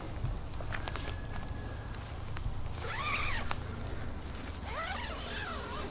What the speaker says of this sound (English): zip it shut.